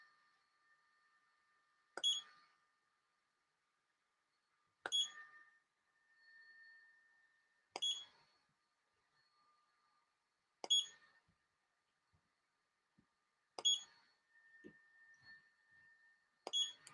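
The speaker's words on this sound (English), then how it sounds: "It's not going to beep until it actually hits my skin." Six short electronic beeps from a handheld IPL hair removal device, spaced about three seconds apart in a quiet room, with faint rustling between them.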